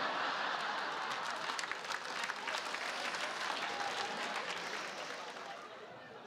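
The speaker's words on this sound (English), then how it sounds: "I earned those claps." Applause from a stand-up comedy audience, a steady dense wash of clapping sustained throughout, loud and close with no talk over it.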